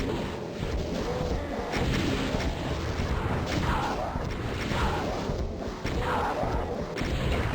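Gunfire and explosive booms ring out while fighting mancubi in Doom 2, a dense, continuous barrage of shots and blasts with no pauses, played at even loudness throughout.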